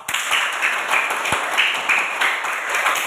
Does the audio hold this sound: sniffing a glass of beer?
no